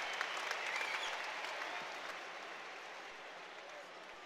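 Rugby stadium crowd at the England v Ireland 2020 match applauds a player leaving the field as a substitute, a broad, steady clapping that is loudest at first and slowly fades, heard at a distance beneath a commentator's voice.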